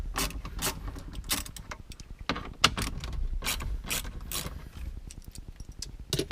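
A 1/4-inch ratchet with a 10mm socket works bolts loose, giving rapid, close clicking pawl bursts in uneven runs with occasional metallic clinks between strokes.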